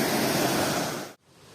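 Broad, steady roar of a waterfall in the Sheshory area, loud and close, which cuts off abruptly near the end and leaves a faint hiss.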